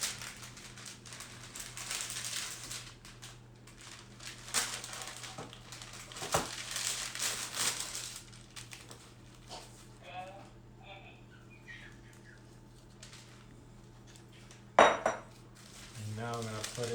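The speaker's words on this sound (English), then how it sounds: "And now I'm gonna put it in the Dutch oven." Rustic low-hydration bread dough is flipped and set into a Dutch oven amid close clattering of pot and metal utensils, rustling and scraping, with a louder clank near the end; a person talks intermittently.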